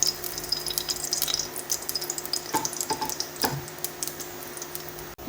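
Ghee poured into a hot pan on a stove sizzles with a steady, close frying hiss, marked by a few soft clinks and taps, with no talking.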